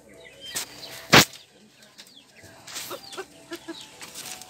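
Pet chickens clucking in short, scattered calls at close range, with a sharp loud burst early on and softer intermittent clucks and rustling afterward.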